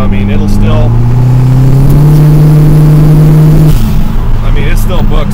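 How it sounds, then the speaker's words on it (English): A turbocharged Swift GTI's engine drones loud and close from inside the cabin in third gear, pitch climbing steadily then dropping with a shift, a voice speaking over it. "just taking the GTI out for a little bit of a run back to the house"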